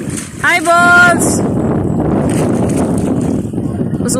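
Gusty wind at a seaside resort roars and buffets the microphone throughout, with a voice speaking briefly near the start over the constant blustery noise.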